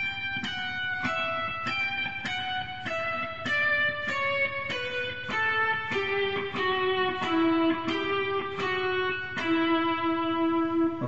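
Guitar playing a steady run of single plucked notes from measure 12 of Canon in D, each note ringing clearly in an even rhythm, close and moderately loud with no talking.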